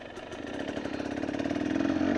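A motorcycle engine idles nearby with a steady rhythmic putter, gradually growing slightly louder, with no voices.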